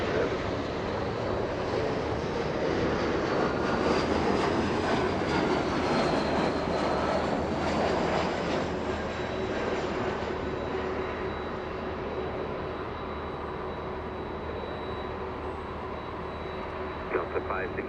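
Southwest airliner taxiing at Los Angeles International Airport, a steady broadband jet engine rumble and whine held throughout at moderate distance, with radio chatter and voices over it.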